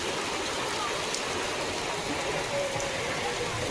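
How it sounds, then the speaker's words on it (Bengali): Steady rain falling in a village, an even, dense patter close by that runs unbroken for the whole stretch. "একটু বেশি বেশি আয় জোরে জোরে বৃষ্টি আয়"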